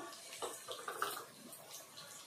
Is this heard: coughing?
no